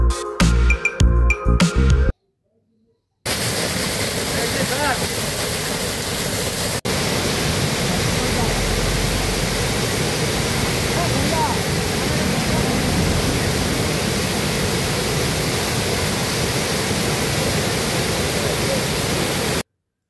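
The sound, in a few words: waterfall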